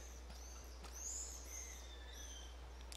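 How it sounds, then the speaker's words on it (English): Birds calling around a junkyard in the game Life is Strange, thin high chirps and whistles scattered over a low steady hum, faint and somewhat distant. "So many birds here, dude."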